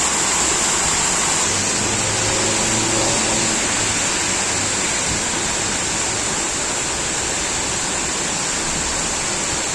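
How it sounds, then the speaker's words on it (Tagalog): A dense, steady roar of heavy rain fills the whole stretch, loud and unbroken, with no voices over it. "biglang bumuhos yung ulan. Sobrang lakas."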